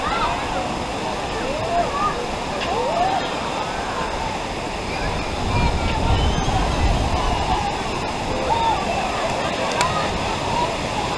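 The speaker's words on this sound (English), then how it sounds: "So that's the falls right there." Dun's River Falls in Jamaica rushes in a steady broad roar of falling water, with people chattering nearby over the continuous splash.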